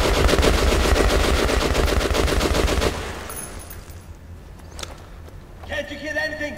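Rapid automatic gunfire rattles loudly for about three seconds in the game Metro Last Light, then stops, leaving quieter ambient noise and a few sharp sounds.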